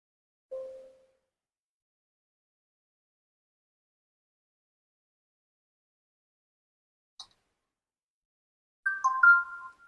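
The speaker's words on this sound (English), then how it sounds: "you will hear it beep on my smartphone" Smartphone notification tones: a short soft beep near the start, a tiny click later, then a brighter two-note chime near the end, each isolated against silence.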